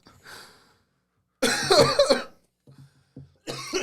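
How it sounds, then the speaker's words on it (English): A person coughs in a close, harsh burst of several rapid coughs, followed by a few small throaty sounds and the start of another cough. "Why are you coughing?"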